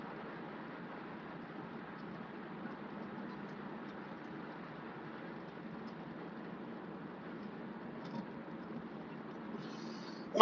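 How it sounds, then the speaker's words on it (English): A long freight train hauled by SD70 locomotives labours up a grade, a steady low rumble of engine and rolling cars heard at moderate distance, fairly even throughout and ending in a sudden sharp burst. "Quite a long train, so he is kind of struggling on the grade a little, not too much"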